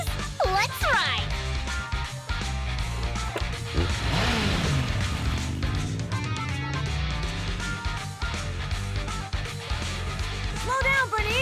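Video game cars race in Zenless Zone Zero with revving engines and tire squeals layered over a busy music-like soundtrack, continuous and dense, with voices speaking in the game.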